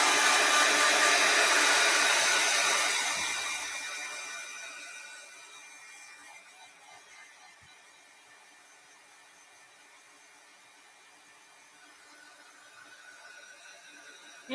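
A hair dryer blows steadily on freshly painted metal craft pieces, loud and close at first, then fading to a quieter, more distant whir that continues to the end.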